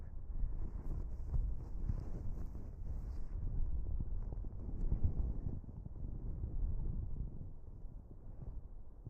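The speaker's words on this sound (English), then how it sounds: "It's that windy over here." Gusty southwest wind at Dublin Airport buffets the microphone in a steady low rumble that swells and eases, with no voices.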